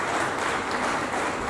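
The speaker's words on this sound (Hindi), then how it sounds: "डॉक्टर मुकेश शर्मा जी, कृपया जोरदार तालियों से" Applause from an audience honoring a guest at an annual day function, a dense continuous wash of clapping, moderately loud and steady throughout, with no speech over it.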